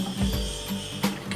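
Ratchet wrench tightening a nut on a Yamaha Lexi scooter wheel fitted with an Aerox rim, a few close, quick clicking pawl strokes in a short burst.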